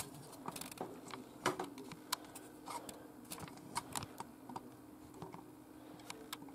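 Fingers type on a computer keyboard at close range on a Linux Lite machine, producing irregular bursts of clicky keystrokes with short pauses between runs.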